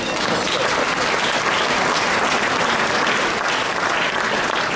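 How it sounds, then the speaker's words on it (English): Audience applause at a congressional campaign event, a dense, loud, steady wash of clapping from a crowd that holds at full strength throughout. "give all of yourselves a round of applause for all that great work and partnership"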